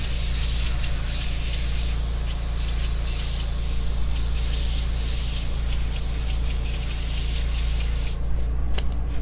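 An airbrush sprays yellow-gold paint onto a T-shirt in a steady, close hiss that runs unbroken and alone, with a brief break of sharper clicks near the end.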